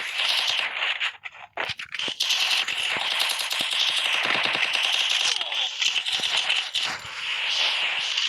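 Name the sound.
gunfire in a shooting video game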